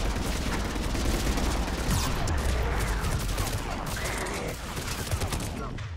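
Dense, continuous gunfire rattles through a Mass Effect 3 firefight, with rapid overlapping shots and bursts layered under a steady din of battle noise for the whole stretch.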